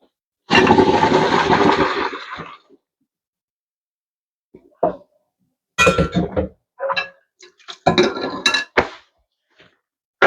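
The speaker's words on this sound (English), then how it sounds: "Now our pretzel buns are done boiling here in this water. We're gonna empty it." Boiling water is poured out of a cooking pot after boiling pretzel buns: a loud two-second rushing gush, then scattered metallic clanks and clinks of the pot and utensils.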